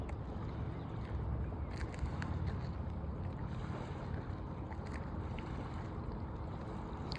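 Steady outdoor wash of wind and gently moving water by the Rappahannock River, a low continuous rumble with faint occasional clicks.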